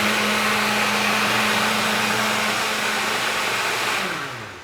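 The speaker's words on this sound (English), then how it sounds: "Blender time." A blender runs steadily with a loud motor whir, then winds down and fades near the end.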